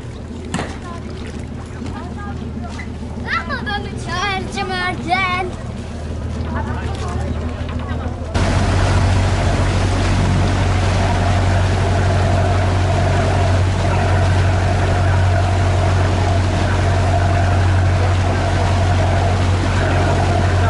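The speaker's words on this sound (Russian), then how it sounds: "Ну, а мы спешим на нашу лодку, она отходит через 5 минут." A yacht's engine drones steadily on a sea tour off Kalkan, Turkey, a loud, constant rumble that takes over after the first few seconds, when a person is talking.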